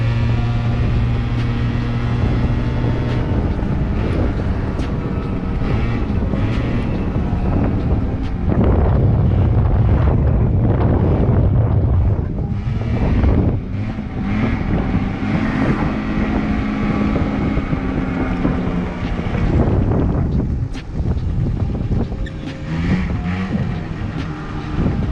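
A liquid-cooled Yamaha Zuma YW50 scooter on a ride, its small engine droning steadily under heavy, loud wind buffeting on the microphone, with the pitch rising and falling slightly as the throttle changes.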